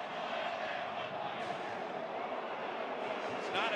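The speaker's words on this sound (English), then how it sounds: "Crowd not happy with it." A stadium crowd at a 1998 Texas at Nebraska college football game voices displeasure with an officials' penalty call, a broad roar under a commentator's voice.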